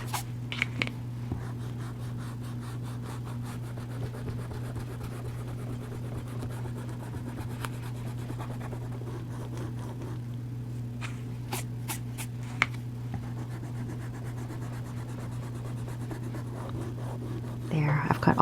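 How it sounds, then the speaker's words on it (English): An eraser rubs out pencil lines on a paper drawing in quick, soft scratchy strokes, repeated in bursts over a low, steady background hum. "I'm going to go in and I'm going to erase all of my pencil lines."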